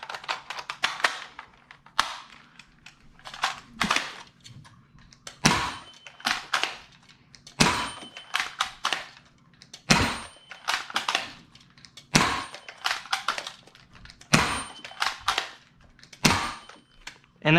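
A Dart Zone Deuce Pro foam dart blaster fires repeatedly at close range, each shot a sharp snapping pop with a mechanical clack, about eight shots at a steady pace, one every two seconds or so.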